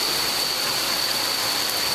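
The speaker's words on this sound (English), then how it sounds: "And rain's not letting up." Heavy rain pours onto a flooded residential street, a dense, constant hiss and wash of water, loud and unbroken, with a faint steady high whine running through it.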